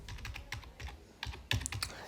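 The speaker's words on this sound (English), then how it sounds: "And after typing the message" Rapid taps on a phone's on-screen keyboard while a message is typed, an uneven run of light, close clicks with a few louder taps near the end and no talking.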